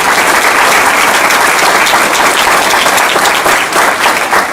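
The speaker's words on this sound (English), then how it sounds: "Give them a round of applause" Sustained, loud applause from a crowd at an annual economic development meeting, dense and steady for several seconds with no speech over it.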